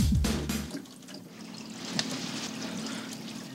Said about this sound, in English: when you pull that drain and the water comes rushing down, we're gonna leak again